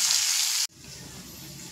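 Thin potato slices seasoned with salt and turmeric fry in oil over a medium flame, a bright close sizzle that cuts off abruptly into a much quieter, low bubbling hiss.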